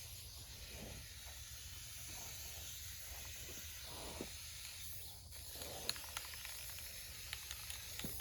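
Spray paint can with a clogged nozzle hissing steadily and fairly loud throughout, used to add burn-mark shading on a chainsaw-carved wooden pumpkin, with faint faster sputters near the end.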